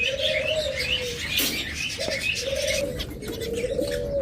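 A cockatiel pair calls in a series of repeated whistled chirps, close and clear over a light background hiss, with no voices.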